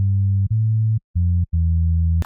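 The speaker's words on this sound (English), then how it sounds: "the sub bass is just a sine wave" A pure sine-wave sub bass synth from a 3x Oscillator plays in an EDM track, sounding alone as four deep, smooth held notes separated by brief silences.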